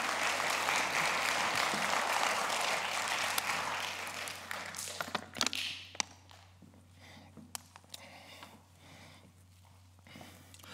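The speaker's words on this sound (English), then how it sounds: "Let's give Jesus a hand clap." A church congregation claps together during a worship service, loud and sustained applause that thins into scattered claps and fades out over several seconds.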